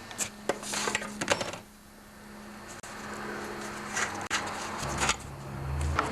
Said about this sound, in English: Now I'm going to remove the valve here, and what you need for that is a 19mm wrench